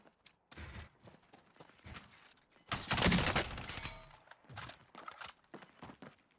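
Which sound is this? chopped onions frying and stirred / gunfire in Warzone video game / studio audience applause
gunfire in Warzone video game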